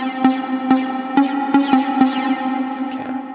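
Sharp synth chord stabs from Native Instruments Massive, about seven uneven hits, each trailing into a washy reverb tail over a sustained tone. Moderately loud.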